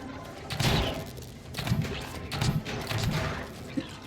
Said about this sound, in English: I can hear more bubble wrap.